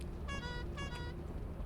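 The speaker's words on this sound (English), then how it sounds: "How do I honk the horn?" A car horn in Lethal Company gives two short honks in a row, a bright tone over a steady low rumble of engine noise.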